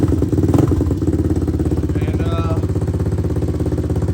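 A minibike engine idles while warming up, a steady chugging putter that runs close and loud throughout, with a brief clatter near the start.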